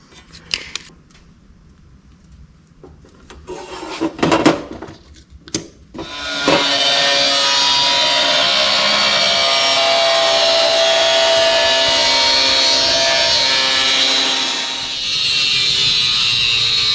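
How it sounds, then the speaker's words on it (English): An LS swap intake tube is cut with a saw after some clicks and handling knocks, and the cutting becomes a loud, steady, continuous grinding that runs for about ten seconds with a brief dip near the end. "we're going to cut it off at 3/4 of an inch right there"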